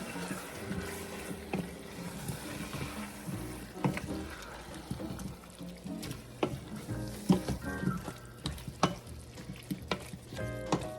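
A pot of taco-seasoned potatoes with Rotel tomatoes and water is stirred as it sizzles, with scraping, knocking spoon strokes and clinks over a continuous soft frying hiss, close and fairly quiet.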